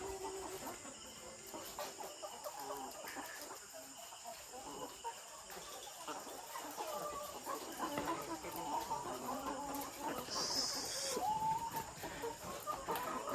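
Lohmann layer hens in a layer house, many birds clucking and murmuring at once in a continuous soft chorus, with a steady insect-like hiss behind and a brief sharper call near the end; no talking.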